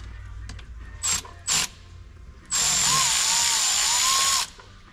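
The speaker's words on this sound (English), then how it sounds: "as I take this last bolt out, there's a valve that's probably going to fall out" A power driver backs out the last bolt from an automatic transmission valve body, close up: two short whirring bursts, then a steady two-second run with a high whine.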